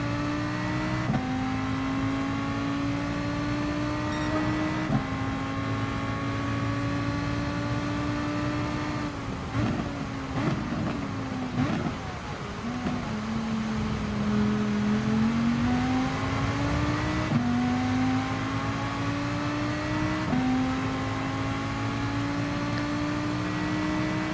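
Race car engines in Gran Turismo Sport on a wet track in rain, a near, loud engine note rising and falling through gear changes and revving steadily with no talk over it.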